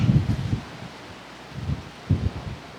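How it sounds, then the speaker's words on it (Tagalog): Strong wind gusting outdoors in Batangas, with low rumbling buffets against the microphone in three main surges and quieter stretches between. "lakas ng hangin ngayon dito sa Batangas"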